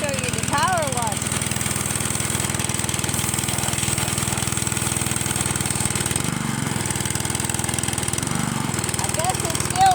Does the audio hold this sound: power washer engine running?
yes